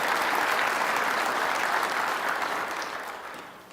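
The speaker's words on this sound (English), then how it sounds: "Let's give Emmanuel a round of applause" Dense audience applause for an award nominee at an announcement event for the Earl Campbell Tyler Rose Award, even and sustained before fading toward the end.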